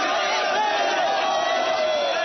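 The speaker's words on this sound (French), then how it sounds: "Le service d'ordre des jeunes patriotes a du mal à contenir la foule qui pousse." Dense crowd of excited protesters pushing forward in Abidjan, Côte d'Ivoire, near French armored vehicles; a continuous loud roar of many overlapping shouting voices and cries, steady throughout with no pause.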